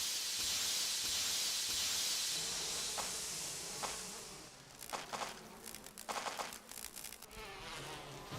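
Swarm of bees droning in a Resident Evil video game, a steady loud buzz at first that thins into scattered close wing-buzz bursts as the player moves about.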